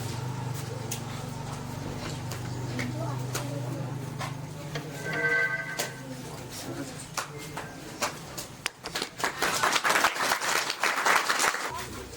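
Applause from an audience at a tribal rights march rally, scattered claps under a speaker's voice at first, then swelling into louder, denser clapping toward the end.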